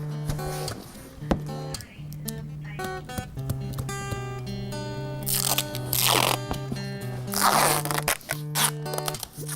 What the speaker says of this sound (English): Again, we tape each seam of the box.